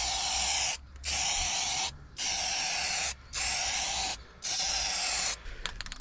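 A spray gun paints an aluminium boat in five bursts of bright, hissing spray, each about a second long and separated by short pauses, loud and close.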